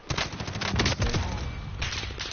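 Rapid automatic gunfire in Call of Duty Warzone, a dense near continuous rattle of loud close shots with a short pause before a final burst.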